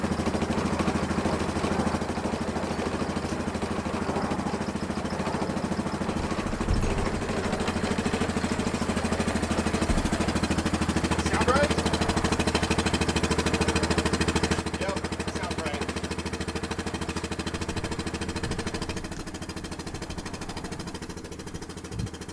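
A Yamaha 708 ATV engine from a Wolverine, Grizzly or Kodiak, overhauled after running out of oil, idles steadily and close up for the whole stretch with a constant mechanical drone and faint ticking.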